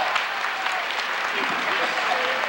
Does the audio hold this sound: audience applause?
yes